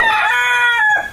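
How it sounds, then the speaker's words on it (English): A rooster crows once, a loud, clear cock-a-doodle-doo lasting about a second with nothing else around it, used as the farm animal sound in a kids' farm puzzle game. "Rooster."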